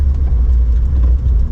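A 2004 Porsche 911 996 Carrera 4S runs with a steady, loud low rumble. The engine drones continuously throughout, with no voices over it.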